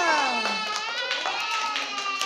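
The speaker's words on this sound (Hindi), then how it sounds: "वेरी गुड तालियां" Children in a primary classroom clap together in brisk, repeated bursts while their voices ring out over the claps.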